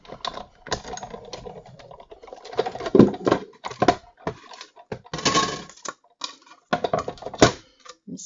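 Stitched-circle Framelits steel dies cutting paper circles in a die-cutting machine, heard up close as a dense, irregular run of sharp clicks and ratcheting taps with brief pauses.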